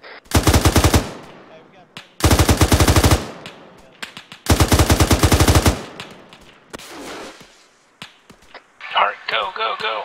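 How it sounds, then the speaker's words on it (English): Automatic gunfire in Arma 3 rips out in three long loud bursts, followed by scattered single shots and distant pops, with radio-style chatter near the end. "Everything is shooting at me!"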